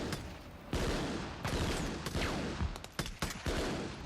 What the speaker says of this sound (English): This is to give the realistic effects of a gunfight